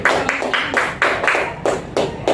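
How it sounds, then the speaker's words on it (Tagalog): Congregation at a church service claps together in a strong, regular rhythm of sharp, loud beats, with no voices over it. "mahina pa rin ang palakpak sa Panginoon"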